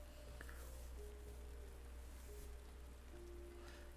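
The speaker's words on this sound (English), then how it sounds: "Our story begins on a cold, rainy night in the quaint village of Sainte-Et-Claire." Rain falling on a cold, stormy night in a quaint village, a soft and steady patter under a low, constant rumble, faint and continuous with no voices.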